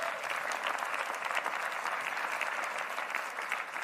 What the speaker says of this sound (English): so give them a hand